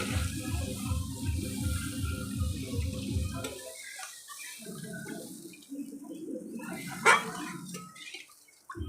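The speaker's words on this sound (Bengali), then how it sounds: "এর মধ্যে জল দিয়ে দেব।" Water is poured into mustard and poppy seed spice paste frying in a pan for a parshe fish curry. It gives a close, continuous gushing splash that stops, then returns in shorter pours.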